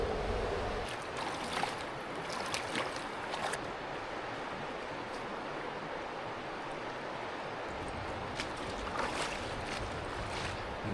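Winter mountain creek flowing toward the Toccoa River, a steady rushing wash of water heard close, continuous and even with no voices.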